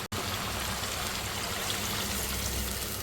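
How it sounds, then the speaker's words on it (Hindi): Water is poured into a pot of mutton chaap korma, about two glasses' worth rinsed from a bowl, giving a steady close trickling stream that runs the whole time after a brief opening gap, with no talk. "इसमें मैंने पानी भी डाल दिया तकरीबन 2 गिलास"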